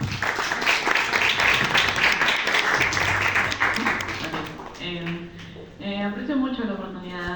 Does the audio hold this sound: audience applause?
yes